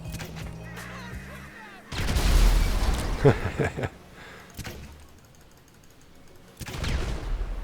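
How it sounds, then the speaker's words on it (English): A tank-mounted grenade launcher in a video game, heard as two heavy firing bursts with rattling, mechanical crackle and a fainter third blast near the end, separated by quieter stretches. "this is your first person view of the grenade launcher"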